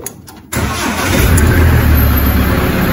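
A Mahindra Roxor engine starts and settles into a steady, loud, close idle to warm up while parked in neutral, a low rumble holding constant after the start.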